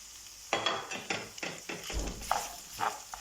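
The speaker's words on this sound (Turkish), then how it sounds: "Güzelce soğanımla da karıştırıyorum" Scraping and stirring chopped onion with liver sauté in a pan, a series of short strokes with faint sizzling between them, up close and with no talk.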